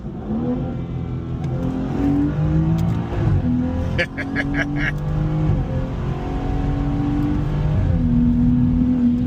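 A car pulls hard on a quick run after warming up on the way to a Cars and Coffee meet, the engine revving up through several gear changes, loud and close, with a voice whooping over it.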